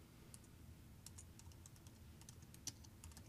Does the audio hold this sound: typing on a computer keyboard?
yes